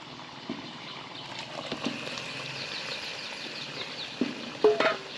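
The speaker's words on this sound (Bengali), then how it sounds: "ভেজে রাখা আলু ঝিঙে এর মধ্যে দিয়ে দেবো।" Chicken sautéing in a pan with fried potatoes and ridge gourd, a quiet sizzle under soft stirring and a few scraping spoon clatters near the end.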